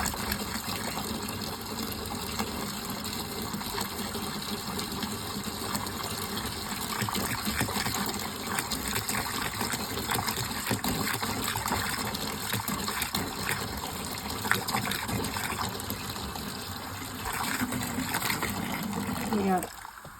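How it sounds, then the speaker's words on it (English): Water gushes and splashes steadily as a jug is poured into a container for cleaning old cast iron, a continuous close pour lasting several seconds with faint voices underneath. "One jug of water going in."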